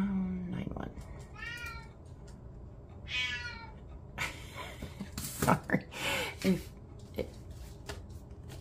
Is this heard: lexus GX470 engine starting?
no